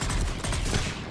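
Rapid pistol shots in the Mass Effect 3 video game, dense and loud, firing in a fast continuous volley throughout a brief moment of combat.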